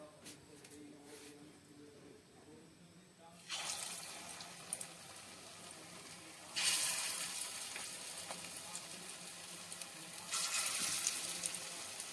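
Potato pakoras fry in hot oil, a faint sizzle that rises into louder, steady bursts of crackling as batter drops into the pan, heard close with some background noise.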